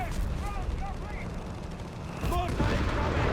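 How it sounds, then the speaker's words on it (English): A German mortar fires during a Company of Heroes 3 battle: dull booming blasts and battle noise under a steady commentator's voice, with a sharper burst of explosions near the end. "Got the German mortar deploying some fire there"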